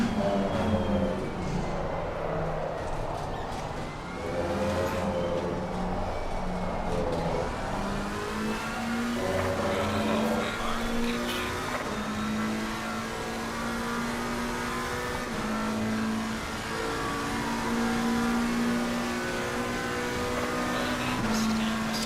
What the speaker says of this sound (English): It does, the Lexus sounds amazing.